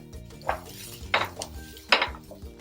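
Cut okra (ladies' finger) dropped into a pan, with a few clattering clunks of utensil against metal and scraping stirs, close up, over soft background music.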